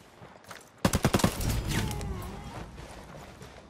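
Gunfire in Ghost Recon: Wildlands from a Type 95 rifle, a sudden rapid burst of about six loud shots followed by echoing decay and faint distant shots.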